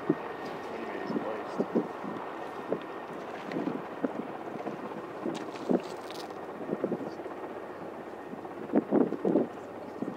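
A large Mi-17 helicopter comes in to land, its steady rotor roar and wind rush running continuously beneath nearby voices talking.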